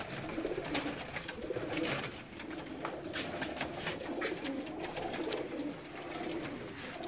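Teddy breed pigeons coo continuously in a loft, a dense, close chorus of low throaty burbling with no talk.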